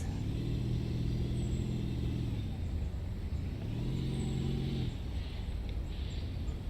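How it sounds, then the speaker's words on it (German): Car driving in the Dinosaur Fossil Hunter game, a steady engine hum that rises in pitch, drops, then climbs again as it shifts, continuous and near with no talk. "Ein Auto, das ohne Mensch fährt."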